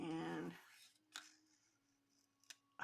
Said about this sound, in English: And you turn the paper, not the scissors,